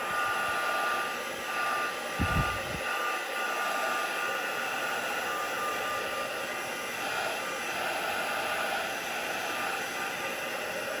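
A heat tool blows steadily and loudly, drying distress oxide ink on a craft background, its constant whooshing hum running close and unbroken throughout with a brief low thump near the start.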